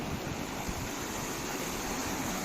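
Water flows inside the Kedareshwar cave temple, a constant broad rushing wash that fills the space evenly with no breaks and no voices.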